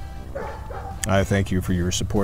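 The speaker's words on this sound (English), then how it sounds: "you may hear the Jägerhunds barking throughout this particular" Jägerhund hunting dogs bark in a quick series of sharp yips close by, following a man's brief speech and overlapping its end.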